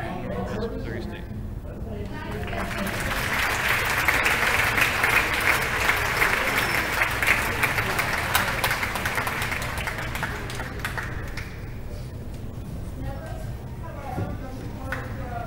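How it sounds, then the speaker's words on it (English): An audience applauds two young women signing with college athletic programs, the clapping swelling to a loud, dense peak midway before thinning out toward the end. "One more round of applause to these two young ladies."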